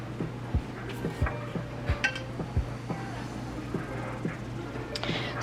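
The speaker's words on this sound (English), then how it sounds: "And mix that all up." Spinach and artichoke dip is stirred in a bowl, with a utensil knocking and clinking against the dish at a steady, roughly regular rhythm, soft and close over low background hum.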